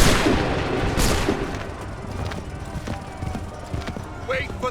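Battle din in Assassin's Creed III, with booming musket and gunfire bursts mixed with horse hooves and whinnies while commanders shout orders over the noise.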